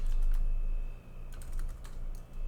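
An SSH command typed on a computer keyboard, bursts of light key clicks in short runs with brief pauses, close and clear over a low background hum.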